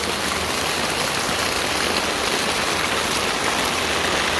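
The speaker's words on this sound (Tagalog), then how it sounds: "Malakas ho talaga yung ulan." Heavy rain pours steadily, a dense, continuous hiss of drops drumming on surfaces close by, with no voices.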